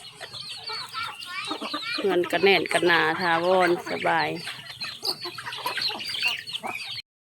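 Chickens cluck on a small family farm where ducks and chickens are raised, the calls running under nearly continuous talk from people nearby.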